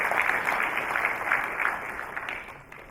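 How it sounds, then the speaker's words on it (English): Sustained applause from an audience honouring speakers at an event on management lessons from Mahatma Gandhi, a steady wash of clapping that slowly fades toward the end, alone without talk. "Give a big round of applause to all of our speakers."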